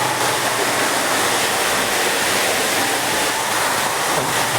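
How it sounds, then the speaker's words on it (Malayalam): Rainwater gushes through an underpass culvert beneath the NH 66 highway at Randathani. The broadband roar is loud, steady and unbroken from start to finish, with no voices. "മൊത്തമായിട്ട് വെള്ളം ഇങ്ങനെ ചാടിക്കൊണ്ടിരിക്കുകയാണ്"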